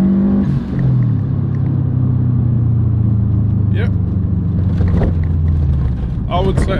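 A Subaru GC8 WRX engine pulls hard under full throttle with turbo boost building, a loud rising drone from inside the car with a faint whir, while someone talks over it.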